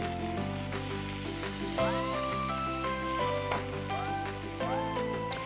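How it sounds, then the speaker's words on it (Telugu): Chicken cooks in a pan, giving a steady frying sizzle with music playing over it throughout. "ఇక్కడ చికెన్ కుక్ అవుతోంది నీట్గా."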